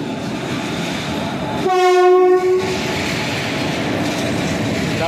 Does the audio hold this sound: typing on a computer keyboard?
no